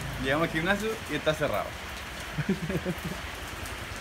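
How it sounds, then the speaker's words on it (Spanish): Rain falls steadily in Bali, a constant broadband hiss that continues beneath people talking. "Que no se sabe qué hacer en Bali cuando hay lluvia"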